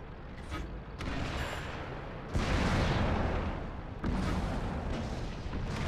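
Tank cannon fire and armor impacts in World of Tanks, heavy booming bursts rising at about one, two and a half and four seconds over a continuous rumbling battle din.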